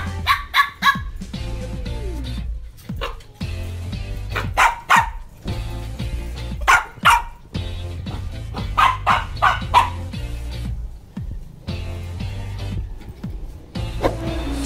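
Dogs bark repeatedly in short bursts, loud and close, with irregular pauses between volleys over a low engine-like hum.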